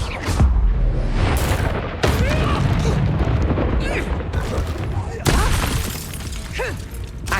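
Incendio fire spells cast in Hogwarts Legacy at max settings: three loud, sharp, crackling bursts land near 0.3, 2 and 5.3 seconds. Each trails into a dense, roaring spread of game effects and ambience, with voice-like tones under it.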